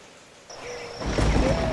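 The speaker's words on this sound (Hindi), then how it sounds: "आज तो बारिश और हवा और तेज़ है।" Rain begins quietly, then swells into a loud, rushing downpour with gusty wind noise building over a couple of seconds.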